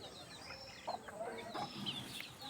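Chickens cluck softly in the distance in a Konkan village, scattered calls over a steady outdoor hum with faint birdsong.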